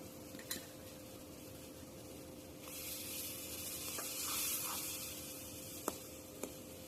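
Chepa shutki, a fermented dried fish, frying in a pan with chili and turmeric gives a soft hiss that swells midway and then fades, with a few faint clinks.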